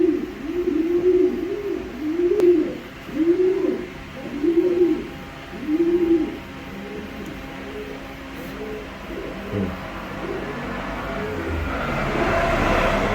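A racing pigeon hen and others coo close by in a repeating series of soft, throaty rolls, fading into steady background noise toward the end.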